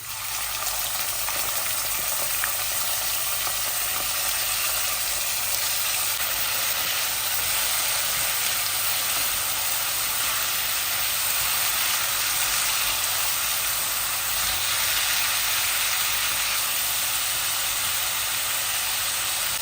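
A large onion frying in a pan with spices such as bay leaf, cinnamon and cardamom for a Bengali lung curry, giving a steady, loud, close sizzle with no talking.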